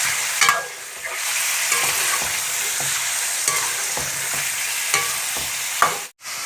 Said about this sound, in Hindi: उसी घी में अब मैं गोश्त डाल देती हूँ